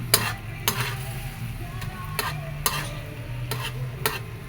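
Pork and beans heat in a pan with a quiet sizzle, broken by sharp spoon clinks and scrapes against the metal at irregular intervals.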